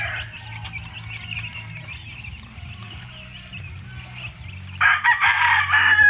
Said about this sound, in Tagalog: Ito para doon sa mga sisiw, sa mga maliliit.